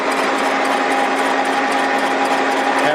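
A machine resurfaces a Willys L engine head with a loud, continuous grinding whir, steady and close, with no talking over it.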